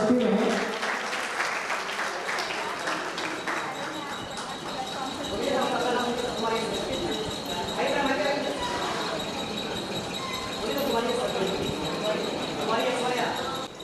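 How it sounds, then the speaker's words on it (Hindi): An audience claps at a women's honour ceremony as a guest comes to the stage. The applause is sustained and fairly even, with voices audible over and around it throughout. "तालियां बजती रहे।"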